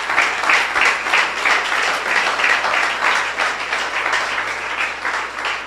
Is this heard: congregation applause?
yes